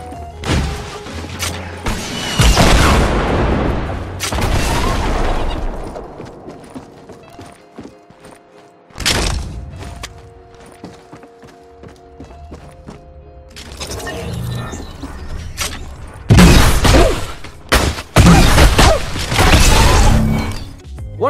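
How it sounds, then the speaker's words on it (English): Explosion in the Fortnite video game after a thrown snowball bounces off a wall, blowing up the player and much of a building, with loud crashing bursts, debris and shattering, separated by quieter game ambience and a late run of heavy blasts. "One of the snowballs bounced off the wall and blew the player up instead, as was a good part of the building."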